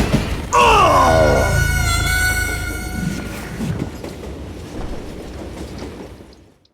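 Train in the Call of Juarez Gunslinger video game rolling along rails, a loud onset with a sustained horn-like whistle and screeching tones that fade into a steady rumbling clatter, dying away at the end.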